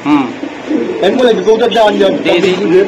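Pigeons such as Mukkhi, Chila, King, Sirazi, Giribaz and racer breeds coo in a loft, the soft repeated calls close and mixed with nearby voices talking.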